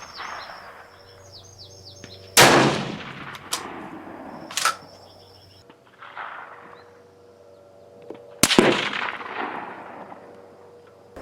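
Sharp, loud rifle shots from a Steyr rifle ring out at an outdoor shooting range, three separate cracks spaced several seconds apart, each followed by a decaying echo, with birds chirping faintly between them.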